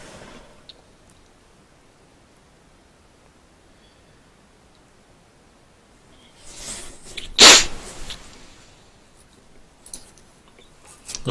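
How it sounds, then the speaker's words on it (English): A single sharp sneeze close to the microphone, rising out of quiet room tone with brief rustling before and after. "I keep feeling like I'm going to sneeze"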